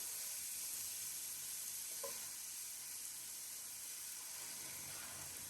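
Onions added to a hot pan sizzle with a soft, steady hiss, faint and continuous, with a small clink midway and no talking.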